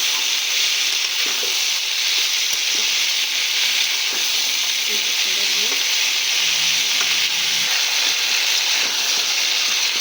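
Yardlong beans fry with a fish head in a pan, giving a loud, steady sizzle with stirring scrapes throughout, and no one talks over it.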